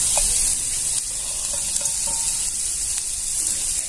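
Coriander and curry leaves stir-fried in a little oil, giving a steady, close hiss of sizzling with light scraping of a spoon against the pan running continuously throughout.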